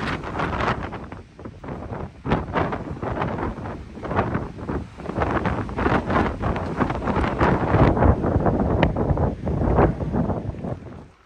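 Strong gusty wind buffets the microphone on an exposed trail on Grandfather Mountain, North Carolina, a loud, continuous roar that rises and falls without letup, with no talking.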